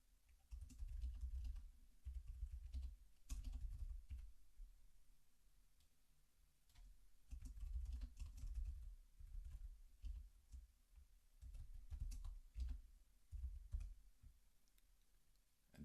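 Computer keyboard typing in bursts of rapid key clicks with brief pauses between, quiet and close by, no voices present.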